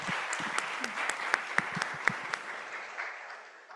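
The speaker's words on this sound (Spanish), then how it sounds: "Muchas gracias, un fuerte aplauso." Applause from the audience at a panel on historical memory and archives, scattered distinct claps that build briefly, then trail off into a fading patter, moderately quiet.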